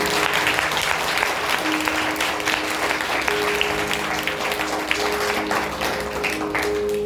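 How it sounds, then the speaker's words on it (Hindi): Church congregation clapping in praise of Jesus: sustained dense applause from many hands, steady and fairly loud throughout, with faint voices mixed underneath. "तालियां बजाएंगे यीशु मसीह के लिए।"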